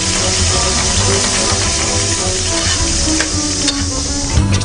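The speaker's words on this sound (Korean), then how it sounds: "참치 캔기름과 함께 잘게 썬 양파를 푹 익혀줍니다." Chopped onions cook in oil drained from a can of tuna, giving a loud, steady sizzle and crackle of frying that continues throughout, with occasional stirring noises and no voices.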